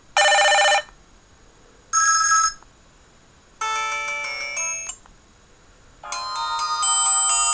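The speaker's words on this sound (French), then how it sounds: "Donc, vous avez 5 sonneries différentes." Ringtones from a Mobiho Essentiel Smart 2 mobile phone play one after another: four short electronic melodies separated by silent gaps, clear and moderately loud, the last one the fullest.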